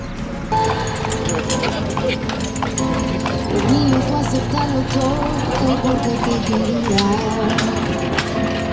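Hooves of a horse-drawn carriage clip-clop in a quick steady rhythm on a street in Santa Clara, Cuba, close and clear beneath ongoing talk.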